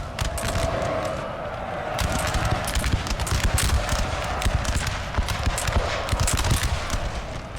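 Musket volleys in Napoleon Total War, a continuous dense crackle of massed shots rolling on without pause, with heavy low battle rumble beneath, steady and fairly loud throughout.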